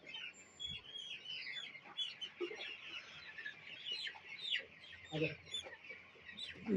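Several chickens cluck and squawk nearby in an ongoing, irregular chorus, with a few sharper calls rising above the flock's chatter.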